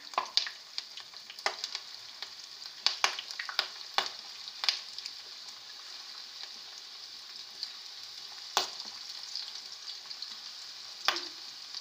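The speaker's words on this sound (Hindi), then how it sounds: "ऑयल गरम है, इसके अंदर अब मैं ये जो कबाब बनाए थे इनको फ्राई कर लूँगी।" Beef kebabs fry in hot oil for a Lahori hareesa, giving a steady close sizzle with scattered louder pops and crackles throughout, no talking.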